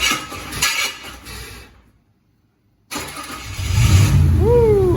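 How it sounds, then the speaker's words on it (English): A classic GM car's engine being started on a worn, failing starter motor, cranking sound dropping to silence midway, then the engine catching and running loud with rising revs close by. "that starter's going out"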